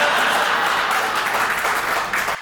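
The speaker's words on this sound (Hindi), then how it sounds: "अमित गुप्ता इतनी उछल के ताली बजा रहे" Audience applause at a Hindi love-poetry recital, a dense, steady wash of clapping that holds loud and even for the whole stretch, with no pause and no voices breaking through.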